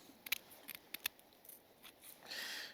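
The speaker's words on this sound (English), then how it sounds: "I'm gonna cut the fins off" Scissors snip through the fins and tail of a freshly caught pouting on the shore at night, with a run of crisp, close, separate cuts followed by a faint rustle.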